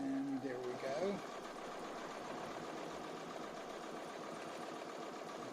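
A Bernina B590 sewing machine stitches quilt-as-you-go fabric with a steady, quiet whir, after a brief voice at the start.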